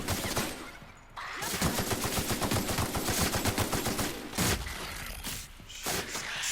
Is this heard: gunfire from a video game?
yes